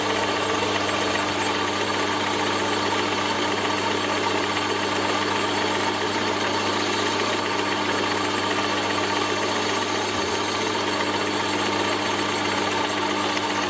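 A workshop lathe runs steadily while turning new lawnmower height adjustment pins, giving a constant, even mechanical hum with a faint rattling vibration and no talking.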